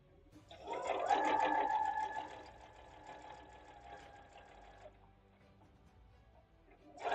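A sewing machine runs close by, stitching in the ditch on flange binding for a Starfire quilt, with a fast even whir that rises to a steady burst for several seconds, then eases off.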